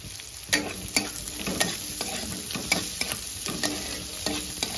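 Eggs frying in a wok with onion in oil, a continuous sizzle broken by regular scraping strokes of a spatula stirring the pan, close and fairly loud.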